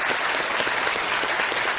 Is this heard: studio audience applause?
yes